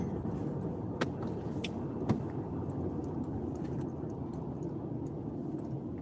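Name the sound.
car driving at night on the way to work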